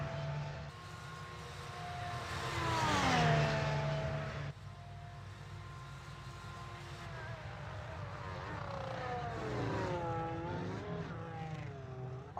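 A race car in an F1 racing video game at the Belgian Grand Prix drives past pit road. Its high engine whine rises and falls as it passes, then another car's engine builds steadily afterward.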